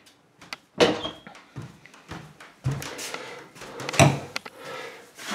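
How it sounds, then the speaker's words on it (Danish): An indoor door in a home being pushed shut, a single firm thud near the start followed by a second knock a few seconds later, amid quieter handling noises and room sounds. "Og lukke døren."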